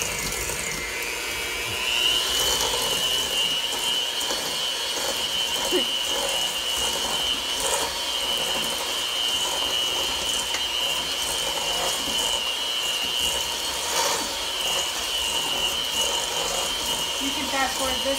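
An electric mixer whips bar batter for ginger chocolate chip bars, a steady high mechanical whine with rattling and clicking that runs continuously at close range.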